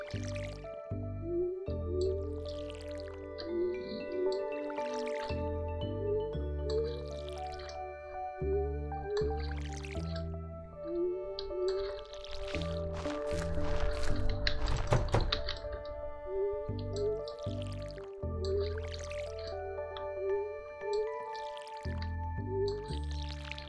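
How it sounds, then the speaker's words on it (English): Crops are watered in the Stardew Valley farming game: repeated soft splashing drips and thunks from a watering can come in short bursts, one shortly after another, over steady background music. "So let's water our crops."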